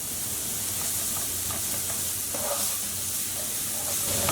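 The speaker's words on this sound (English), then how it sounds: "all we want to do with our onions is just saute them" Onions sautéing over turned-up heat in a hot pan, a steady soft hiss with scattered light crackles and occasional faint stirring, close and fairly quiet.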